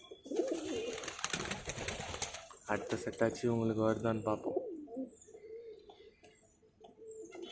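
Pigeons in a coop coo in a low, rhythmic burble, heard mid-clip alongside chirps while someone talks over them.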